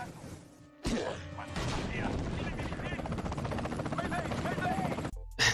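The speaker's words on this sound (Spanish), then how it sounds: "Sigue la persecución con dos helicópteros armados hasta los dientes." Film chase-scene audio from Hulk (2003) with two heavily armed helicopters: a dense, busy mix of rotor noise, gunfire bursts and crashes under a loud score, then a brief cutoff and a final hit.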